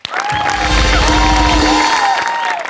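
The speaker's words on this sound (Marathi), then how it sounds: "त्यांचं टाळ्यांच्या गजरात स्वागत करूया" A Marathi comedy show's studio audience bursts into sustained applause and cheering, a dense wall of clapping with whoops running loud and steady for a few seconds.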